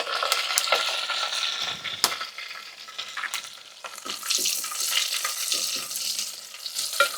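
Onions, garlic and curry leaves fry in oil in a pan for moringa leaf dal, giving a steady close sizzle with crackles and spoon scrapes as they are stirred, no talking.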